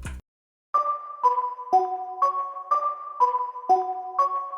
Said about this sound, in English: I've decided to use this bell preset and lay down a really simple bell pattern